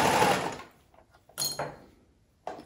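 A serger runs along a fabric fold while hemming, giving a short whirring burst at the start. Two more brief runs follow after quiet pauses, close and moderately loud.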